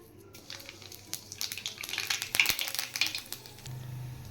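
Black cumin seeds (kalonji) sizzle in hot oil in a home kitchen, giving a crackling spatter with scattered sharp pops and a faint clink of utensils, moderately quiet and without talk.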